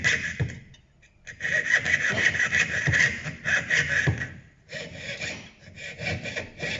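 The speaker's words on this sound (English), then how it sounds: "Piercing sawing is fundamental skill in jewellery." Fine jeweller's piercing saw cutting through brass sheet, a brisk rasping stroke repeated in quick even rhythm, close and clear, with a brief pause midway before the sawing resumes.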